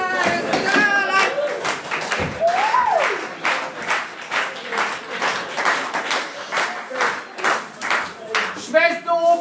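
Rhythmic, unison clapping from a theater audience during an amateur four-act rural play, steady and fairly loud, with actors' voices and shouts over and between the claps.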